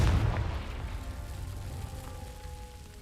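A Confringo spell goes off in Hogwarts Legacy as a loud, booming blast at the very start that rolls off into a low, decaying rumble over a faint musical hum.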